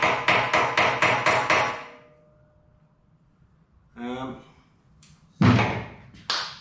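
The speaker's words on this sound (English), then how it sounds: "it's a copper hammer and I'm only tapping it." Six quick metallic copper hammer taps on a bearing race during a Yamaha XS650 front end assembly, in a steady rhythm, fairly close, then a pause before a person speaks briefly.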